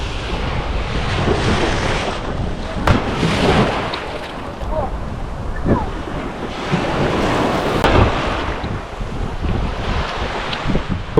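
Ocean surf rolls onto Patar Beach in Bolinao, Pangasinan, a continuous wash of breaking waves mixed with heavy wind buffeting the microphone, with a few sharp knocks and surges along the way.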